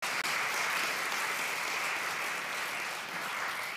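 Congregation applause at a church annual meeting, a steady, even patter of many hands clapping heard from a distance, fairly soft and uninterrupted by talk.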